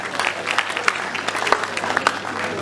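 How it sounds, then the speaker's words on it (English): An audience at a gathering claps to welcome a group of aspirants, giving brief, moderate applause with distinct individual claps standing out. "Let's clap for them."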